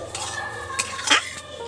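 Boiled chickpeas are stirred in a pan for chana masala, giving a few soft scraping strokes and one sharper clink of utensil against metal.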